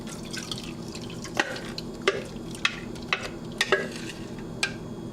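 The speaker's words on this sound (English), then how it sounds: "all we got to do is drain off the buttermilk" Buttermilk draining off freshly made homemade butter, with a series of separate liquid drips and small splashes against a faint background of handling noise.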